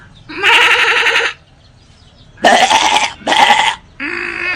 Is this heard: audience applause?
no